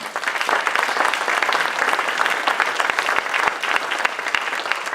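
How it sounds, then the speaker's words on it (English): Loud, steady applause from a large crowd of graduates and staff at a school welcome-back assembly, dense clapping sustained evenly without a break and no voices standing out. "Give yourselves a round of applause, please."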